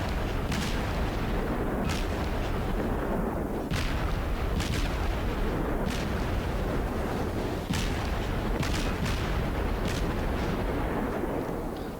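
Naval gunfire from warships in World of Warships, with repeated heavy booming salvos every second or so over a dense, constant battle rumble, loud and close.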